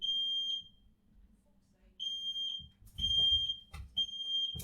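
A home fire alarm shrills in repeated high beeps, each about half a second long in pulses, with low muffled speech and thumps between them.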